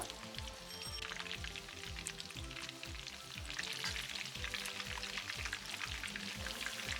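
Chicken pieces deep frying crisp in hot oil: dense, steady crackling sizzle with rapid popping bubbles, even and continuous, quiet and heard close up.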